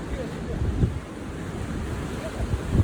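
Rough South Atlantic ocean waves surging against a jetty, a steady broad roar of surf with wind buffeting the microphone and a couple of heavier wave thumps.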